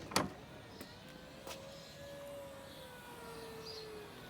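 Electric tailgate of a Mercedes E300 AMG Line diesel hybrid operating: a soft, steady motor whine rising and drifting slowly in pitch for several seconds after an initial click, fairly quiet and close, with no talking.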